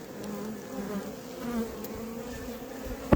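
Honeybees hum in a steady, low drone around an open hive during a nuc installation, the buzz close and continuous with soft fluctuations and no speech.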